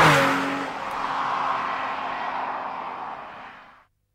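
A Porsche 911, either an early narrow-body or a 996 40th Anniversary model, accelerates hard with a loud, rising engine roar that holds strong for about four seconds before cutting off abruptly.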